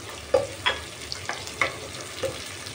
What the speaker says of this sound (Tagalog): Ngayon is ilalagay ko na yung ating sibuyas